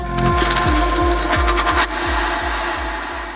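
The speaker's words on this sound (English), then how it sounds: "There's a little sound, and I think it was fingers on a fence or something." Fingers rattle along a fence in Melbourne with the highs filtered out, heard as a regular run of soft dull thuds echoing through a delay, with a bright textured layer that cuts off halfway through.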